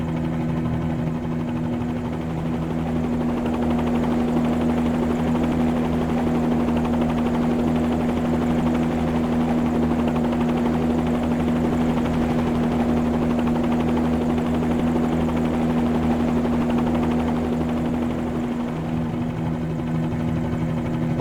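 A Bell 47-G2 helicopter in Microsoft Flight Simulator 2020 settles onto a platform and keeps running, its loud, steady rotor and engine drone carrying a constant low tonal hum for the whole stretch, with no talking.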